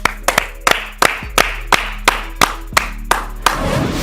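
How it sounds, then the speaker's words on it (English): A small group claps at the close of an NFL talk show, with about a dozen sharp, evenly spaced hand claps followed by a brief burst of looser applause. "Let's clap it up."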